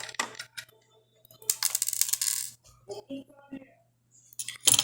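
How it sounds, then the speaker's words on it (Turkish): A disc reader is taken apart with a screwdriver, producing close, sparse metallic clicks, scrapes and small rattles in short bursts with quiet gaps, while someone speaks. "Hemen onları açıyorum. Tornavidayla."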